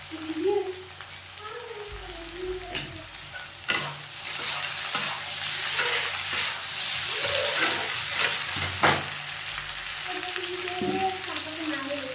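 Poppy seed paste sautéing with potato and drumstick stems in a pan: a continuous close sizzle with scraping stirs and occasional sharp clinks, and a voice speaking faintly at moments.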